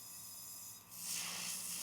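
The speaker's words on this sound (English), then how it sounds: "So spraying out the gun again" An airbrush gun sprays out during nail art, a soft steady hiss that swells partway through and holds, fairly quiet and close, with no voices.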